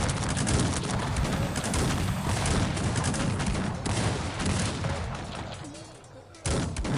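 In the video game Cossacks 3, musket volleys and massed gunfire crackle continuously in a dense battle din, with a sharp volley near the end.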